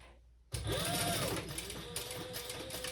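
A sewing machine runs steadily, stitching the exterior and lining front panels of a belt bag right sides together at the seam allowance, its close, loud whir starting abruptly after a brief quiet moment.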